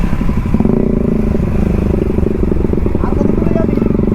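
A motorcycle on a group ride roars close by, its engine droning loud and steady while someone shouts over the noise.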